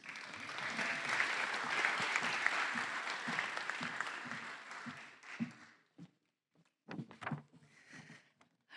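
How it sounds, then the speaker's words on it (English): Loud audience applause fills a graduation ceremony hall as a keynote speaker is welcomed, steady clapping for about five seconds before fading out into brief pauses and a speaking voice. "May I please have a round of applause for Norma Quiñones."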